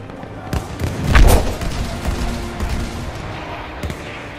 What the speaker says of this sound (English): its only saving grace is the Livens projector artillery